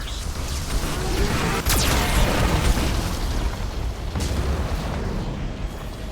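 In a Mass Effect 2 battle, a Geth cannon's heavy blasts boom over a constant rumbling din, with a sharp burst near the second mark and another lighter hit a few seconds later.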